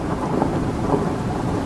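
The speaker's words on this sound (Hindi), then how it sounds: "बरसात और तेज हो गई थी। रह रहकर बिजली कड़क रही थी" A rain and thunder sound effect from a Hindi horror thriller audiobook plays: dense, steady rainfall with a low, rolling thunder rumble underneath. It is brief and continuous, with no speech.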